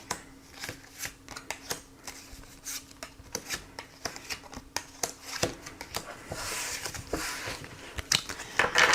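Tarot cards are shuffled and drawn by hand, a close series of quick riffling slaps and rubbing flicks in an uneven rhythm, growing denser and louder toward the end.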